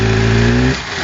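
A car engine that struggles for power and has a blocked, water-filled exhaust, running loud and close. A steady droning tone holds for most of the moment, then drops sharply as the throttle changes.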